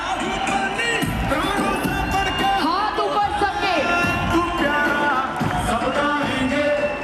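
A crowd cheers and shouts at a corporate gathering welcoming its MD and CEO, a steady loud roar over a music track, with a voice urging them on throughout.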